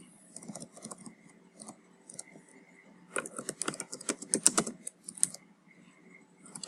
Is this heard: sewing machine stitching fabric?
no